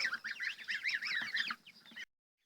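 Geese honk in a rapid, overlapping chorus on a village farm for about two seconds, then fall abruptly silent.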